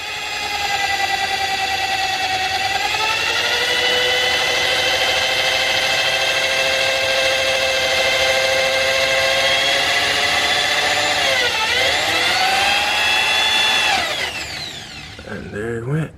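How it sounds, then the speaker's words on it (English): A power drill runs steadily with a bright whine as a 1/8 inch bit bores a pilot hole for an EGT probe on a 6.0 Ford F250, the pitch shifting near the end before the motor winds down. "I'm just gonna drill my pilot hole with the 1/8 bit"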